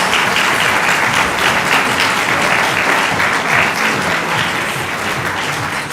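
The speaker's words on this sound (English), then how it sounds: "Round of applause." Loud, dense audience applause at a national science fair final for a student finalist, a sustained wash of many hands clapping close and continuous throughout.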